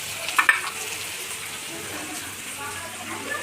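A spice mixture with onion roasts in hot oil for a fresh broad bean pod curry. A soft, steady frying hiss runs throughout, with a couple of brief utensil clinks near the start.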